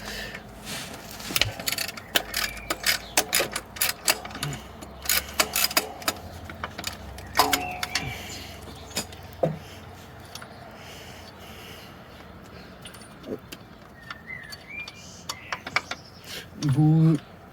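A socket tool ratchets on the last engine-mount screw of a Peugeot 205 XR in short, close clicking bursts with metallic clinks and pauses, quiet overall, ending in a brief louder buzz.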